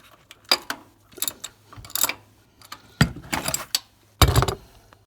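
A ratchet tightens the thermostat housing bolts on a Chevy Express V6 van, producing loud, close bursts of clicking in several separate runs with short pauses between them.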